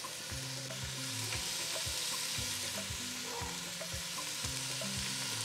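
Pieces of venison brown in butter in a pot, a continuous close crackling sizzle, with a soft, regular tonal pattern running low beneath it.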